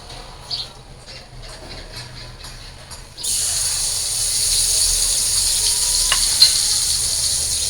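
Blended green and dried chilies with onion, turmeric and coriander powder hit hot oil and break into a loud, steady sizzle that holds to the end after a few soft clinks.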